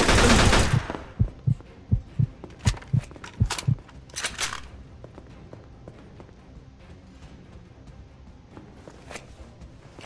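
Rapid gunshots burst out in the Mafia II video game, a quick string of sharp shots followed by a few scattered bangs over a quieter background.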